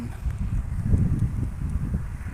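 Gusty wind buffets and rumbles against the microphone while a 170 cm kite is flown outdoors, a close, low, uneven roar that rises and falls throughout.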